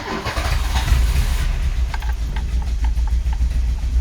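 A 1988 1.8-litre 90 hp carburettor car engine starting: a cranking rumble catches into an uneven, slightly rough idle, loud and close with light ticking on top.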